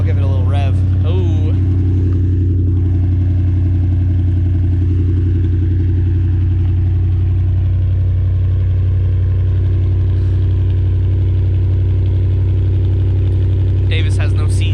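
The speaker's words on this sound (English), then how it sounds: "She lives. I'll give it a little rev." Chevrolet Camaro engine running in cold weather, a loud steady idle with a low droning rumble that carries through the whole stretch, while people talk briefly near the start and end.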